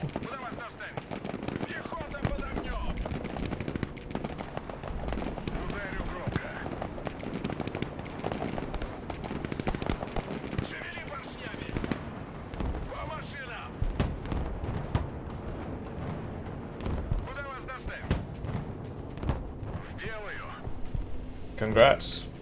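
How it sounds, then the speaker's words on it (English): Artillery fire rains down on a player in the video game Broken Arrow, dense booms and explosions going on continuously with crackling gunfire, while people talk throughout. "I'm definitely getting hit by artillery."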